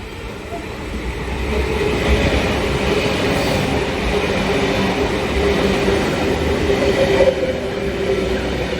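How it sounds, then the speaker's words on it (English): A Sydney suburban train at a platform near Lidcombe and Olympic Park, its carriages rumbling steadily at close range as it pulls away, with a brief clunk partway through and no voices. "The closing doors of the train."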